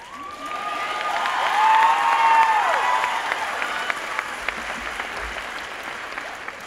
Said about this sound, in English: Give a round of applause over there.